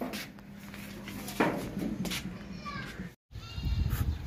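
A Makhi Cheena goat weighing about 37.5 kg, offered for Qurbani at a livestock sale, bleats a few times nearby while people talk and move around it.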